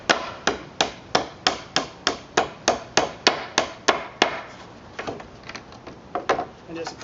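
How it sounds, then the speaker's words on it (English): Hammer blows knock nails out of a wooden pallet board: about a dozen sharp, evenly spaced strikes close by, then several slower, lighter taps. "Then I can just hammer these nails out a little bit."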